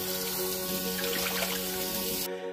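Noodles are rinsed under a running kitchen tap with lukewarm water, a steady close splashing flow that cuts off abruptly just before the end.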